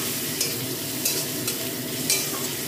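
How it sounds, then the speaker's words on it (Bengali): Sliced onions frying in hot oil in a wok with whole cumin and green chillies for a homemade pasta, a steady close sizzle broken by a few sharp scraping stirs, with a kitchen chimney fan humming underneath. "পেঁয়াজটা একটু ভালো করে ভাজা করে নেবো"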